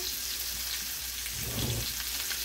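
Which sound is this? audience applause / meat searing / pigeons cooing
meat searing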